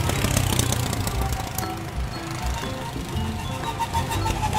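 Go-kart engines buzz and drone as the karts race, a busy mechanical rumble with uneven revving bursts and a few rattling knocks, loud and continuous throughout.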